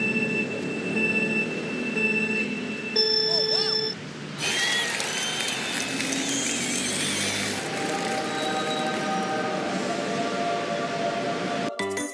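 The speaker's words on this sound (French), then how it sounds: "on a pris le métro aujourd'hui" A metro train in Bangkok runs with a steady rumble and rising wheel squeal, and high tonal whines and brief signal tones sound over it throughout.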